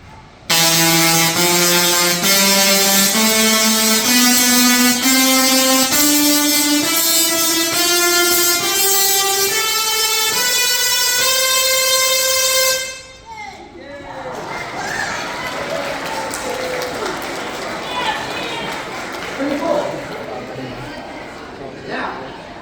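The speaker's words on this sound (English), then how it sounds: "you'll hear those sparks sound higher and higher pitched" A loud buzzing electric tone of Tesla coil sparks climbs step by step in pitch for several seconds, then cuts off, leaving crackly background noise.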